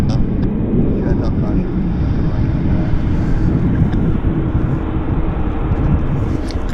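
Airliner taxiing on a wet runway at Vancouver airport, heard as a loud, steady broadband engine roar with wind buffeting the microphone throughout.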